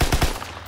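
Enemy gunfire in Call of Duty WW2, three or four loud, close shots in quick succession at the start, then a short fading tail.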